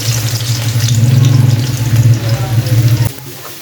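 Steady, loud frying sizzle of garlic in hot oil, a crackling hiss that runs continuously for about three seconds, then cuts off abruptly.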